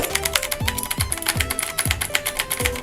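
Brisk typing on a Corsair K95 Platinum XT mechanical keyboard with blue switches, close and loud, with a rapid run of sharp clicky keystrokes and no talking.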